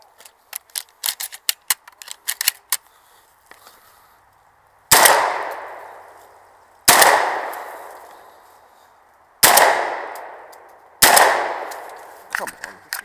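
Gunfire at a 3-gun shooting match: a rapid string of sharp distant shots, then four loud, widely spaced booming reports, each followed by a long echoing decay.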